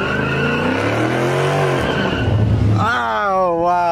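A loud, revving car engine roars up close at a car show, rising and falling in pitch with a throaty growl, while a voice talks over it.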